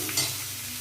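Bottle gourd pieces dropped into hot oil with five-spice produce a short, soft sizzle with one brief stirring scrape.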